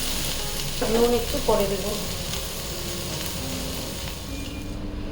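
Food frying uncovered in a pan, a steady close sizzle throughout, with a brief spoken remark early on.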